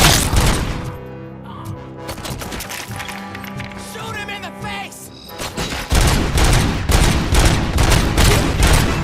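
Rapid gunfire bursts from the Robocop Rogue City video game, loud and dense, rattling over music and game noise, with a heavier volley in the final seconds.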